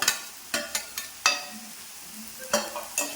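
Sliced raw plantain stirred into onions frying in a hot pan, with a low sizzle beneath a series of sharp scraping and stirring knocks.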